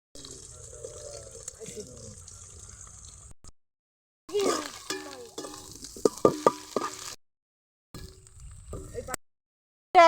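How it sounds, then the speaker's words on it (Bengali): Onion and egg fry in a pan at an outdoor picnic on a boat by the water, giving a close, steady sizzle broken by short pauses and sharp clinks of stirring against the pan. "এখন ভাজা ভাজা হচ্ছে"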